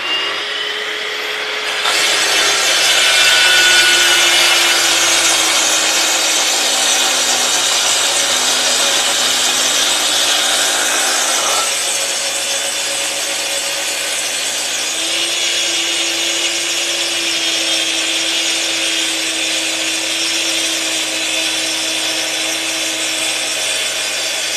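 Festool TS55F track saw fitted with a 42-tooth 1.8 mm curved blade ripping through oak hardwood, a steady loud whine of motor and cutting that starts abruptly and holds for the whole stretch, with no talk.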